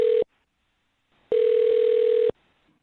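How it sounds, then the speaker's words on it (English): A steady telephone tone sounds in two bursts, a short one at the start, then silence, then a longer one-second tone, clean and close. "I'm going to dial her phone number right now"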